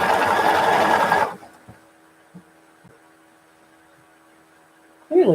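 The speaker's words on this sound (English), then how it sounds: "Sometimes what I do is I sew little crumbs together to make a bigger piece." A sewing machine stitches small crumb scraps of quilt fabric together, running loud and steady for just over a second before stopping, leaving a faint hum with a few soft clicks until a short burst of machine noise returns at the end.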